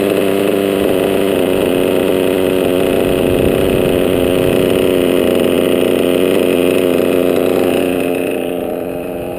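A small two-stroke engine revs hard and loud at a steady high pitch for several seconds, then eases off toward the end, with no voices over it.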